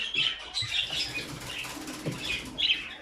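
A pet bird in a cage beside its eggs flaps its wings in quick fluttering bursts, close and fairly soft, with faint chirps mixed in.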